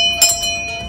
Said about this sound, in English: ring that notification bell so you'll know when the next episode is up and running